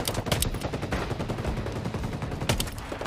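Rapid, dense pistol fire in Ghost Recon Breakpoint, with repeated sharp shots running steadily through the whole stretch at close range and high volume, with no voices.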